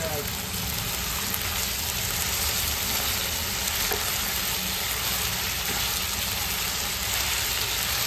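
Vegetables stir-fry on high flame for chicken Hakka noodles, making a dense, unbroken roar of sizzling oil that stays loud and even throughout.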